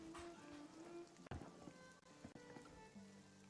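Faint steady rainfall patters in RuneScape DragonWilds, mixed with quiet game tones and a few soft thuds, low in level throughout.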